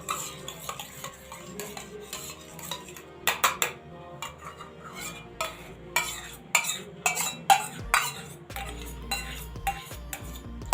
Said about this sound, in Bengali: তারপর নেব এই যে টক দই, একটু ফেটিয়ে নিই